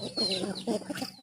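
Chickens clucking close by, a few quick bursts of clucks that stop abruptly at the end, with no talking.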